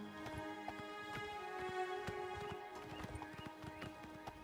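Horse hooves clip-clopping in a quick, uneven rhythm in a video game, with a whinny and steady in-game ambience underneath, fairly quiet and continuous.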